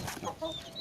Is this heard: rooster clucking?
yes